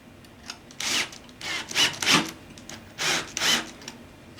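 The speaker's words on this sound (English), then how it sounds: "Use a drill on that." A drill driving into a wooden MiniMiner frame in three short, rasping bursts with brief pauses between, close and fairly loud, with no talking.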